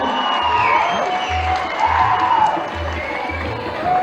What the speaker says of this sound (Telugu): ఇప్పుడు పద్మ విభూషణులు ఇరువురికి ఒక్కసారి గట్టిగా చప్పట్లు కొట్టి మనం శుభాకాంక్షలు అందజేద్దాం